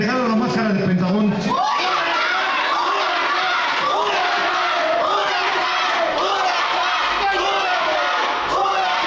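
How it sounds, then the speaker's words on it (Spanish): A large crowd at a Mexican lucha libre anniversary event shouts "huracán" in loud, continuous, overlapping chanting and yelling that fills the whole stretch. "El que grite más fuerte, huracán, huracán, le regalo la máscara del Pentagón."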